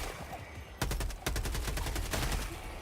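A weapon in the video game Helldivers 2 fires a fast, evenly spaced string of loud, close shots that lasts for about two seconds after a short, quieter lead-in.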